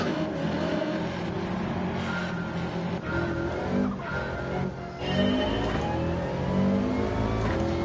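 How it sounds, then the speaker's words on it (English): A race car engine in the Gran Turismo 7 video game revs and shifts through rising and falling pitch sweeps, with occasional tire scrubbing during a race. It is moderately loud and continuous, with no voices. "Because having engine sounds is the best in the world."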